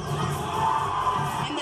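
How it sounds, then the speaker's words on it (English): A big arena crowd cheers wildly at a national college dance-team competition, with loud continuous shouting, whoops and screams forming a dense roar throughout. "the crowd goes wild every time for that"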